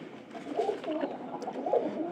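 A pair of pigeons coos in soft, rolling phrases, several low throaty calls repeating across the stretch at close range with no talk.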